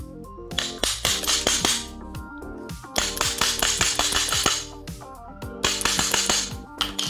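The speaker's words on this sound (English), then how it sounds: "Let's insert this just by tapping it with hammer." A hammer taps a bearing onto the water pump shaft of a 2006 Crompton Mini Star-2 pump, giving sharp ringing metallic clinks in quick bursts of repeated strikes with short pauses between them, close and clear, with no voices.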